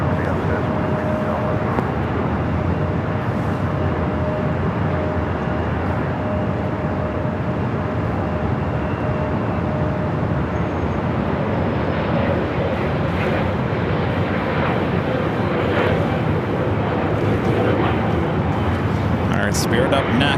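Jet airliner taking off from runway 24 left at LAX, a steady broad engine roar held throughout, with air traffic control radio talk running over it.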